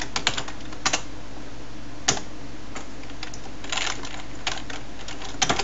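Short bursts of keystrokes on a computer keyboard while C++ code is entered, close and clicky with scattered pauses between clusters over a steady background hiss, with no one talking.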